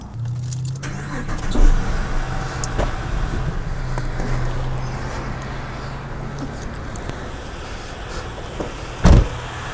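A Holden VZ V6 engine in a Crewman, Commodore or Ute cranks and settles into a steady low idle, with a sharp knock or clunk near the end, heard close with no talking.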